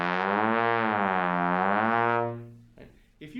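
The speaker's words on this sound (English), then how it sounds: "the first way you can tell whether or not you're doing this is if you just do a regular glissando" A slide wind instrument, likely a trombone, plays one sustained, rich tone that glides smoothly up and back down in pitch for about two seconds before fading, followed by a few faint clicks.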